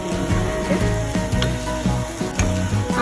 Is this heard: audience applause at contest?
no